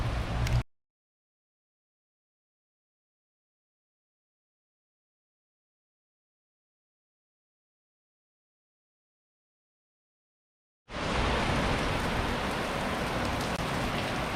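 A rain shower outdoors comes in as a brief hiss, then cuts to a long silence before a steady, fairly loud wash of falling rain returns and holds without pause.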